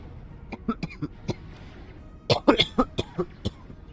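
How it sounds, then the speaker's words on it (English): A character in the game Star Trek Online coughs repeatedly and close up: a few spaced single coughs, then a denser burst of harsh hacking coughs, with no talk over them. "Gods, I wish this cough would just go away already."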